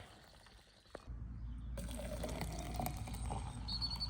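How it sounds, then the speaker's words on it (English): After a small clunk, hot water is poured into a container, a steady liquid trickle that rises slightly as it fills. "That's all you need to do is just add a little bit of hot water."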